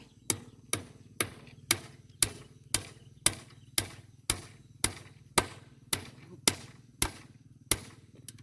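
Pounding strikes ring out in a steady, even rhythm, about a dozen sharp hammer blows evenly spaced over a low continuous hum, close and clear with no talk.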